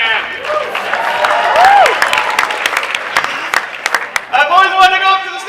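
Audience at a live comedy show at New York Comic Con breaks into loud, sustained applause with scattered cheers and whistles, while voices carry over the clapping.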